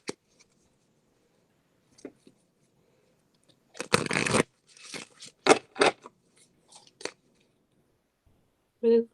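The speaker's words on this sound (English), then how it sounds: "I hear her munching on something." A dog chews and munches on something nearby, with short irregular crunching and gnawing bursts between quiet gaps; faint voices are heard briefly.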